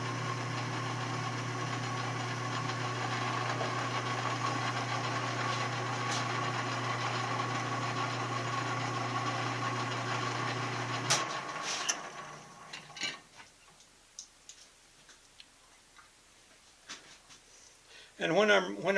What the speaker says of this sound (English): when I'm reaming like this, as is obvious, I kind of go for the I use this squirt the oil method